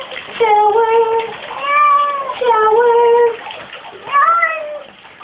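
A cat meows in four drawn-out, wavering calls, close and clear, with short pauses between them and a quiet background.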